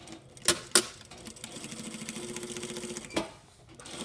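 Sewing machine running a steady stitch along a shirt yoke, the motor hum continuous through the middle with a couple of sharp clicks before it starts and another as it stops.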